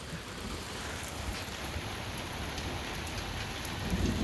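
Steady rain pours during a thunderstorm, a dense even wash of drops on street surfaces, loud and close, holding level throughout with no voices.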